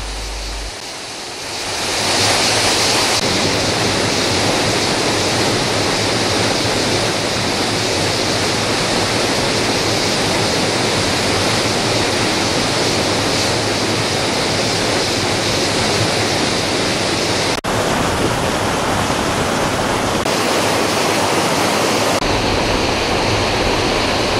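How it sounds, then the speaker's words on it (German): Loud, continuous roar of rushing water from waterfalls in Scandinavia, a broad steady wash of sound with slight shifts in tone and no voices. "Diese Wassermassen speisen tausende bizarre Wasserfälle"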